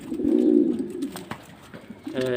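French meat pigeons cooing close by, a low throaty coo swelling and fading, followed by softer shuffling and a faint voice in the background.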